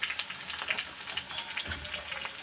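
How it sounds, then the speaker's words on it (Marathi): Onion sautéing in a pan for stuffed bitter gourd, a soft steady sizzle and crackle with faint pops, fairly quiet throughout and with no talking. "कांदा बघा छान असा परतला आहे यामध्ये"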